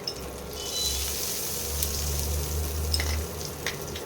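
Asafoetida crackles and sizzles in hot oil with a steady frying hiss and a low hum underneath, with no talking.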